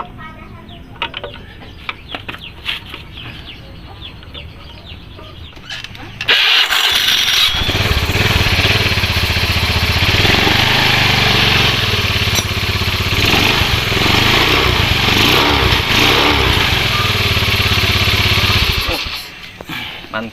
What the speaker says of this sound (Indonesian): Tinggal tes starternya ya.